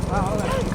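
Hooves of racing bulls pound along the track at a bull race in Kadaladi, Ramanathapuram district, a rapid, continuous clip-clop close by under loud shouting voices.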